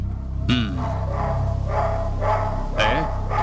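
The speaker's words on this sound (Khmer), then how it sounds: "មិនបានជាឆ្កែព្រុសខ្លាំងម្លេះ" A dog barks loudly at night, several sharp barks spread through the moment, close and prominent over a low steady background hum, with voices murmuring faintly.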